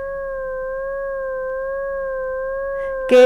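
Steady sustained electronic tone from a Desmos graph sonification of x plus 2, a clean pitched hum holding level for about three seconds before a short burst of noise at the end.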